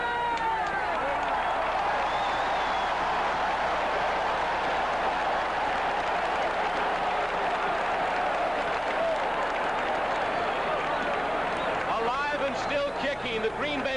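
A stadium crowd roars and cheers at a 1978 Packers home game against Oakland in Green Bay, a dense, continuous wash of noise lasting throughout, with a commentator talking over it.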